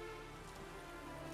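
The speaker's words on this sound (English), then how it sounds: "And it's just raining, raining, raining." Rain falls in the video game The Witcher 3, a soft, steady, even hiss of drops at low volume, with no voices or other sounds on top.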